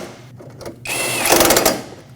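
A power tool snugs up 10mm-headed bolts on the intake tubing of a Nissan Frontier 2.5L four-cylinder, a short loud whirring burst with a rapid ratcheting chatter at the end, close by.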